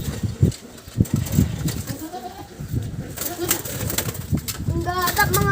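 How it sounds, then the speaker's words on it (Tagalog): Pigeons cooing close by in soft repeated throaty calls, with bleating animals and people talking throughout, plus scattered knocks and rustling. "Yun na mga kalapatids."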